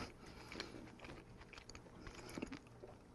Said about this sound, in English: So now that I'm chewing the candy